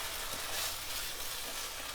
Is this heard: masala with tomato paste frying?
yes